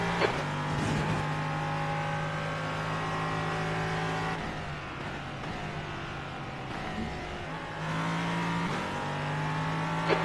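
A race car engine howls at high revs on track, climbing through gears with brief dips at shifts, loud and close from inside the car, with no talk.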